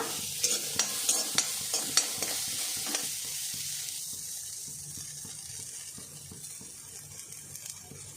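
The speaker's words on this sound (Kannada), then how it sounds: "ಮೊದಲಿಗೆ ಕೊಬ್ಬರಿಯನ್ನು ಹಾಕ್ಕೊಂಡು ಸ್ವಲ್ಪ ಫ್ರೈ ಮಾಡ್ಕೊಳ್ಳೋಣ" A spatula scrapes and taps rhythmically against a pan as dried coconut dry-roasts without oil, with a faint sizzle that quiets halfway through.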